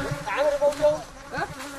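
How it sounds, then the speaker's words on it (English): Angry bees buzz close by during honeycomb removal at a white-honey harvest in Tigray, Ethiopia, in a short, wavering drone that rises and dips, with a faint murmur in the background. "Eager to escape these angry bees."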